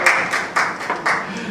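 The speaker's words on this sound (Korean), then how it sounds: "뜨거운 박수" Applause at an association's founding ceremony, close and loud, with uneven bursts of clapping that rise and fall in several swells rather than a smooth roar.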